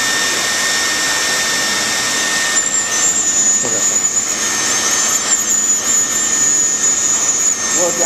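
A Leister Bitumat hot-air welder blows steadily while welding Siplast granulated roofing membrane, a loud continuous whine and rush of air that holds constant throughout, with a slight tonal shift partway in.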